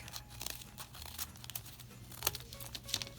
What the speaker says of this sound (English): I'm just taking my scissors and I'm cutting along that line that I drew